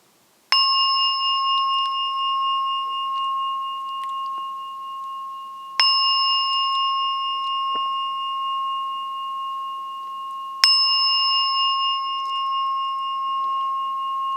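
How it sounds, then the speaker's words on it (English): A meditation gong is struck three times at slow, even intervals, each clear ringing tone sustaining and fading gently into quiet between strikes. "So I'll ring the gong 3 times, and you can open your eyes when you're ready."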